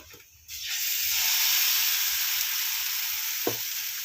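Sweet dosa batter hits an oiled griddle and breaks into a loud, steady sizzle after a short quiet start. The hiss holds evenly throughout, with one brief clink near the end.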